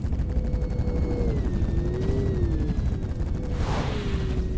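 Rockets firing and striking targets in the space defense game Directive: Intercept, a dense continuous roar of launches and explosions with a steady whining tone above, loud and sustained throughout.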